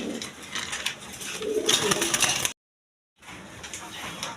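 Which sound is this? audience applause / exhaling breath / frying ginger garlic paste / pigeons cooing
pigeons cooing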